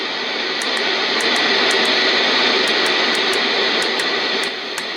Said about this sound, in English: This is louder than white noise and has a bit more of a roar to it.